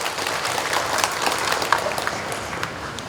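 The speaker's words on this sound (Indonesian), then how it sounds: "Tepuk tangan untuk kita semuanya." An audience at a morning government assembly applauds, with continuous clapping at moderate level and a few sharper claps standing out.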